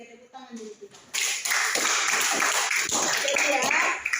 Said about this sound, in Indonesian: Bagus untuk ceria, tepuk tangan dulu kita.